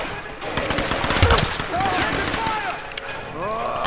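Rapid gunfire rattles in the Tomb Raider game as a burst of sharp shots at moderate loudness, with a voice speaking over the action.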